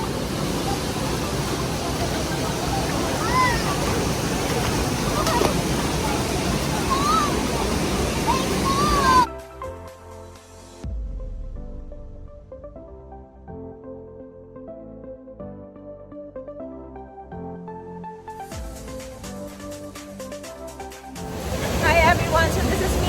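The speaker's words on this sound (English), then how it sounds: "the water is like really flowing so hard" Strongly flowing water rushes loudly at the Curug Barong waterfall in Sentul, Bogor, a dense continuous roar up close for the first nine seconds, then cut off by a stretch of music before the rushing returns briefly.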